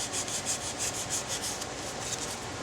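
Rhythmic scraping and rasping as a rabbit taxidermy form is trimmed, a series of quick back-and-forth strokes, close and fairly quiet, with no voices.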